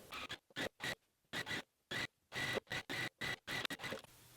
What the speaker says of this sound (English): now I'm just gonna hold these two together and stitch the entire length of the way